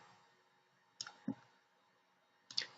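Three crisp mouse clicks close up, a pair followed by a single click, while animations are applied in PowerPoint 2016, alone in a quiet room.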